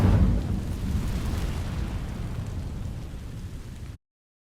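The Incendio fire spell from Hogwarts Legacy ignites dry vines with a loud whooshing roar that bursts at the start and then holds as a steady, dense crackling rush for about four seconds before cutting off.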